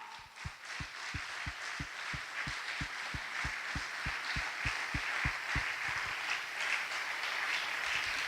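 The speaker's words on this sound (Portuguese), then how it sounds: "Aplauda o Senhor." A church congregation applauding during a worship service: dense, continuous clapping with a steady rhythmic beat of low thumps running through it, a full room of hands heard at moderate loudness.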